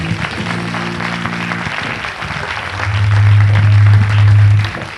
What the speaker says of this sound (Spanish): Los invito a renovar el aplauso a todos nuestros expositores